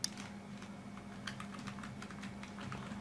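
Someone taps out a password on a computer keyboard, steady quick keystrokes clicking close by with a faint background hum and no talking.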